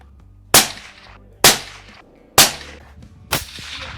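Four loud, sharp shots from an Orsis T-5000 sniper rifle fire at a steady pace about a second apart, each with a quick decaying echo.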